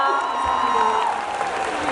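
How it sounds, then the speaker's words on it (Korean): A concert crowd at an outdoor public broadcast show at a Pokémon World Festival applauds and cheers in a dense, steady roar of clapping with scattered whoops. "큰 박수로 마음을 함께 하시죠"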